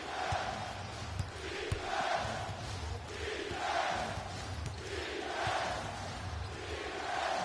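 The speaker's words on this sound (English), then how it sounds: "I'm hearing some boos from the crowd" Basketball arena crowd booing in a video game broadcast of an NBA game with Phoenix and Devin Booker, a low rolling roar of jeers that swells and fades in repeated waves, fairly faint and distant, with no talk over it.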